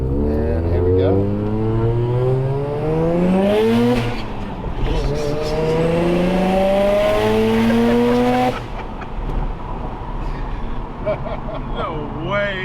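Street-ported Mazda RX7 rotary making about 428 horsepower, heard from inside on a ride along, revving hard through several rising gear pulls with shifts between, loud and close, easing off near the end.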